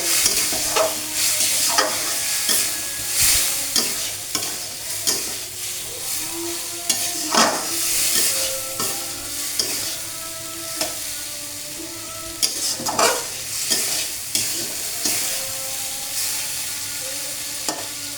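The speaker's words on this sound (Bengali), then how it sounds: "মশলা, আলু, টমেটো আমি ভালোভাবে এখানে কষিয়ে নেব।" Spices, potatoes and tomatoes fry in hot oil while a spoon or spatula stirs them, producing a constant sizzle broken by repeated sharp scraping and knocking strokes against the pan at an irregular rhythm.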